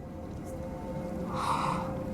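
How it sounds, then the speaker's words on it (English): A creature in the Hellblade video game breathes heavily, close and rising into a louder gasping exhale toward the end, over a low droning game soundscape. "It's breathing."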